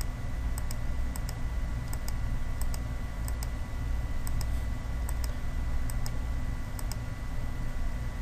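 Computer mouse clicks while navigating chip-design software, about a dozen short crisp clicks in loose pairs over a steady low hum of room or computer noise, no talk.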